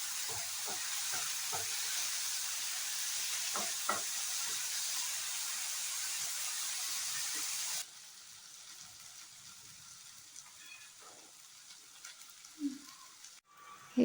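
Soaked toor dal being stirred in a hot frying pan, a soft steady sizzle with scattered scraping taps of the spoon, which drops abruptly quieter partway through, leaving faint scrapes and small clicks.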